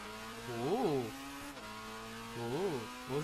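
A Red Bull race car in Gran Turismo 6 on PS3 roars through two rising and falling engine revs with gear changes in between, loud and close, with no talk over it.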